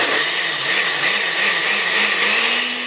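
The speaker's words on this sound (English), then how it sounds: "let it blend until it's smooth." A blender purees pumpkin soup with a loud, steady high whir, its motor pitch slowly rising as the mixture smooths, with no talking.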